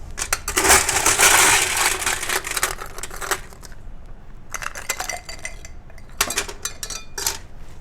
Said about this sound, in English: And now we're going to add ice to the glass.